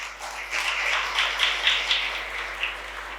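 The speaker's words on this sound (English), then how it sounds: "A round of applause, please." Polite applause at a school felicitation ceremony for top board-exam achievers: moderate, steady clapping from a seated crowd with a few sharper claps standing out, fairly distant and soft, with no talking.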